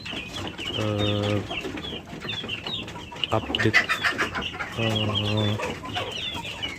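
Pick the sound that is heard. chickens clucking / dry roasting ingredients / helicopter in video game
chickens clucking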